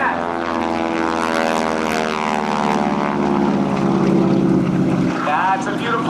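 A propeller plane at an air show drones loudly and steadily overhead, its engine pitch shifting slightly as it dives and banks, with faint voices underneath.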